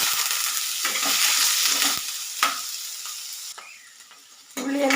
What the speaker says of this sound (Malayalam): ഇനി ഇതിലേക്ക് ചെറിയ ഉള്ളി എടുത്തിട്ടുണ്ട്.